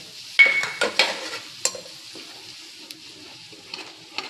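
Fish curry masala with curd frying and being stirred in mustard oil, a soft sizzle under a few close scraping and clinking strokes of a spoon against the pan, with no talk.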